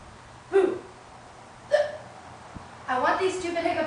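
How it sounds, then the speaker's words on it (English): A person hiccups three times at spaced intervals, each a sharp, close vocal catch, the last stretching into a longer voiced sound. "I want these stupid hiccups gone."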